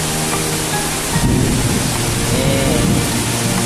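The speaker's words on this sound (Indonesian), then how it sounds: "Ini cuacanya lagi hujan deras ya." Heavy rain with wind pours down on Tidung Island at night on New Year's Eve, a loud, dense, unbroken roar of rain and gusts, with a voice speaking briefly beneath it.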